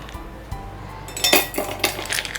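Ice cubes drop into a glass while a Ramadan drink is made, a few bright clinks and clatters arriving in quick succession after a quieter start, close by and alone without talk.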